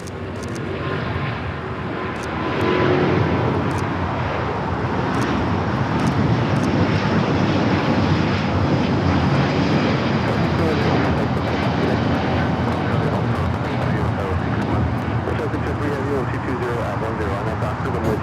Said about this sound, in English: This is ITA Airways 621 taking off to Rome, Italy on the A350-900.